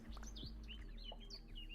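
Several small birds chirp and tweet in quick overlapping calls, fairly faint, above a steady low background hum.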